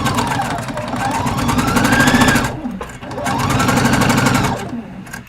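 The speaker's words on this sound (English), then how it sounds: "And I'm just sewing" A sewing machine sews down the side seam of a top in two close, loud runs of about two seconds each, its motor whirring and rising in pitch, with a brief break between them.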